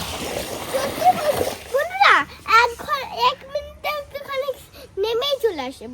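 Child splashing about in a village pond, with bursts of water splatter mixed in among excited high-pitched kids' voices and shouts close by.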